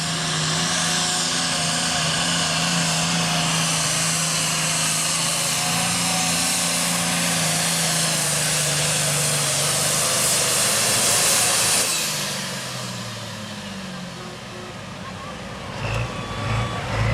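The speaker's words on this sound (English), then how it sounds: "This tractor here is an alcohol burning tractor." Alcohol-burning super stock pulling tractor engine on boost at an Emporia, Virginia pull, a loud sustained roar with a high whine that holds steady and then eases off near the end.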